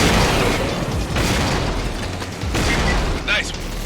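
Rocket hits and explosions bring down an ATAC aircraft in the video game Killzone 2, with loud booms and bursts over a dense, continuous battle din, while a voice speaks over the action.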